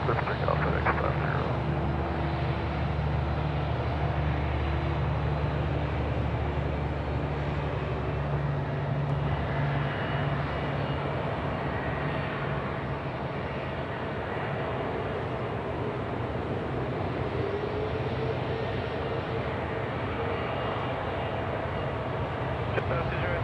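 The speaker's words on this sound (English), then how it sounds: "FedEx 507 on a runway 16 right, clear for takeoff." A FedEx plane takes off from runway 16 right at Sydney Airport at night, its jet engines giving off a steady, loud roar that holds for the whole stretch, with voices underneath.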